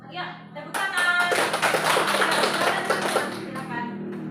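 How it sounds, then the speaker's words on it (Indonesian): Classroom students clap together in a burst of applause, dense and close, swelling after a brief pause and holding steady before trailing off, with a voice briefly audible at the start. "tepuk tangan"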